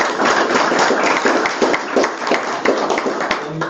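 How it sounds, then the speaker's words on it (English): A crowd at a school board meeting applauds a speaker: dense, steady clapping from many hands, sustained for several seconds in an indoor room. "let's give him a round of applause"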